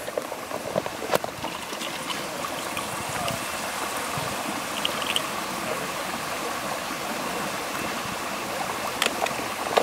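Water runs through a Katadyn BeFree backpacking filter into a HydraPak Seeker bag on a river trip, a close continuous trickling gush with a few small clicks and knocks.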